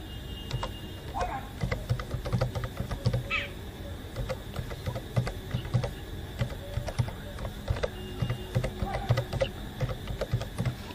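Someone types an email address on a computer keyboard, a steady run of light key clicks under faint background sound, with no talking.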